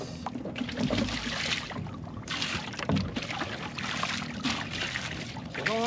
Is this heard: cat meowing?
no